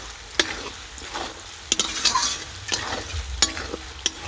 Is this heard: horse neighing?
no